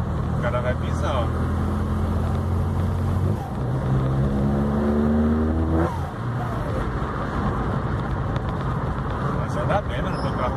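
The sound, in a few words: old 1980s V8 car engine revving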